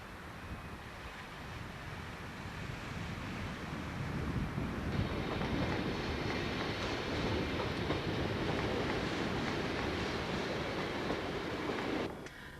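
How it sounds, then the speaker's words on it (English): A train rumbles steadily along the tracks with a continuous rushing, rattling roar that swells and then cuts off near the end. "This is the train."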